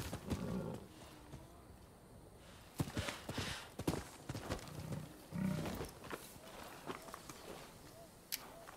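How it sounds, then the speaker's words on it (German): A startled cat yowls in the Rise of the Ronin video game, short growling cries rising above soft footsteps and hoofbeats in the game's background ambience. "Eine erschreckte Katze."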